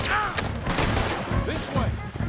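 A loud, dense burst of gunfire in a Red Dead Redemption shootout, with overlapping shots and shouting voices throughout.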